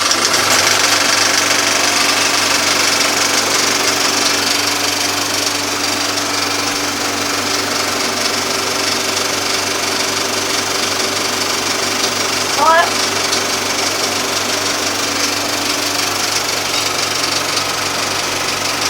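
The number 1 machine, an engine, runs at a constant pace as a loud, steady drone with a knocking undertone, with no clear start-up and no other sound standing out.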